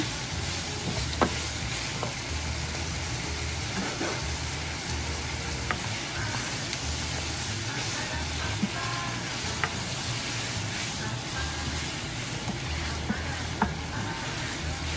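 Chicken pieces sizzling and frying in a pan for chicken pot pie, a continuous close crackling hiss with occasional utensil scrapes and stirring taps, no speech.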